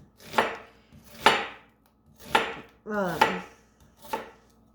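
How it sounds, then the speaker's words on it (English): A knife chopping an onion on a cutting board, five distinct separate cuts spaced about a second apart, close and clear with no talk. "So everyone cuts onion their own way. I like to cut it like this."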